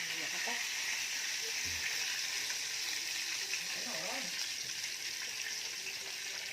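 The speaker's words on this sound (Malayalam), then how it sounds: "കടുക് പൊട്ടി തുടങ്ങി." Mustard seeds popping in hot oil in a home kitchen pan, a steady bright sizzle throughout with faint crackles and a little background voice.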